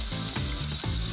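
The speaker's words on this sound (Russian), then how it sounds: "бифштекс обжаривается просто с двух сторон" Beef steaks frying in a hot pan, a loud, dense, continuous sizzle close by, with a few faint rhythmic clicks under the crackling and no talking.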